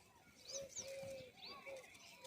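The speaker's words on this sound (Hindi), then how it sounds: "सुबह सुबह है और पक्षी आते हैं" Birds calling over a crop field in the morning, with several short rising and falling whistled calls and cooing notes at moderate distance over a steady outdoor background hum.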